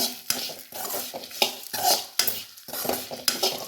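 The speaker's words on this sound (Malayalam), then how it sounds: "നമ്മൾ മഞ്ഞപ്പൊടി ചേർത്തിട്ടുണ്ട് ഇനി അതൊന്ന് ഇളക്കി കൊടുക്കാം" A spoon stirs turmeric through roasting grated coconut in a metal pan, giving repeated scraping strokes and clinks against the pan in an uneven rhythm, with a faint sizzle beneath.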